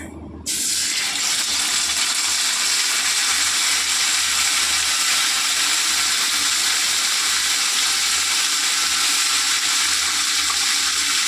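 Paste dropped into hot oil in a home kitchen: a sudden loud, hissing sizzle that starts at once and holds steady and close, crackling and bubbling without pause, with no talk.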